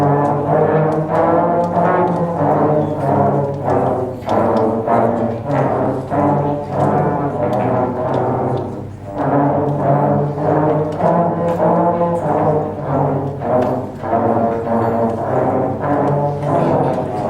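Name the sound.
trombone section playing Ode to Joy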